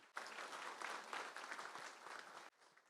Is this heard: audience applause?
yes